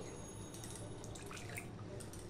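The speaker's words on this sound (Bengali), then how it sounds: "আরো একটু জল দেবো আমি।" Water poured into a cooking pot of drumstick (sajne data) curry, a steady soft trickling and splashing that runs evenly throughout, close by, with no talk.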